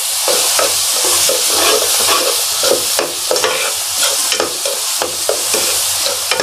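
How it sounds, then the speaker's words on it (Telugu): Onions and meal maker (soya chunks) frying in a pan, a steady loud sizzle with repeated scraping stirs throughout, no voices. "ఇప్పుడు ఇవన్నీ కూడా బాగా వేగిపోవాలి ఆనియన్"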